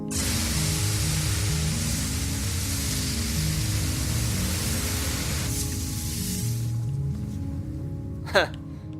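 Water hose spraying in The Unfinished Swan, a loud, steady hiss for several seconds that cuts off abruptly, leaving a quieter background with a brief sharp sound near the end and a voice talking over it.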